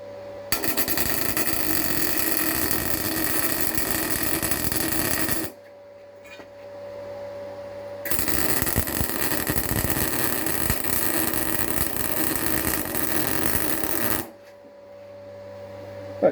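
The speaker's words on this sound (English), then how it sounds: "So what I'll do now is weld this around there from the inside out as best I can" Welding on a Ford Escort MK1 water rail during a restoration: two long continuous bursts of loud crackling, hissing MIG-style arc noise, each several seconds, separated by a short quiet pause with a low hum in the background.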